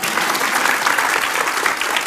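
Audience applause at a pollution forum in Delhi, dense steady clapping from a large crowd filling the whole stretch without a break.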